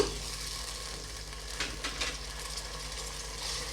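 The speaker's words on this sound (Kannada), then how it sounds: "ಟೊಮೆಟೊ ಸ್ವಲ್ಪ ಹಂಗೆ ಫ್ರೈ ಮಾಡ್ಕೊಂಬಿಡೋಣ" Chopped tomatoes fry in a pan with onion for tomato bath, giving a soft, steady sizzle with a few brief scraping stirs over a low background hum.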